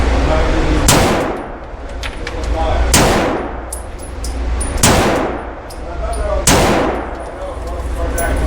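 Pistol shots from a Walther PDP and a SIG 226 X Five on a range, each followed by ringing clangs of steel targets. Four loud, sharp reports come a couple of seconds apart, with metallic pings between them.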